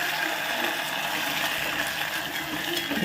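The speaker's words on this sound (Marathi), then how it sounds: "एक अर्धा कप पाणी टाकलं म्हणजे कढी फुटत नाही" Water is poured into a pot of mango kadhi as it heats, giving a steady broadband splashing gush that runs evenly for a few seconds without pause.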